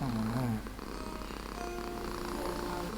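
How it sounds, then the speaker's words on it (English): A cat named Buddy purrs on a couch, a soft continuous low rumble close by, with a brief voice or tonal sound at the start. "Buddy's purring over here."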